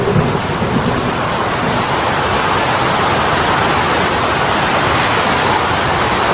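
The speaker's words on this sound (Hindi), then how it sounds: "फिर एक दिन बहुत बड़ा तूफान आता है" Steady, loud rain and rumbling storm noise from a heavy thunderstorm in a cartoon, a dense continuous wash running through the whole stretch with no speech over it.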